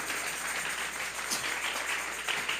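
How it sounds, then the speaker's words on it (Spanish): Congregation clapping together at a church service, a dense, steady wash of many hands heard throughout, fairly near and continuous with no voices over it. "Vamos a regalarle ofrenda de palmas al Dios de la gloria."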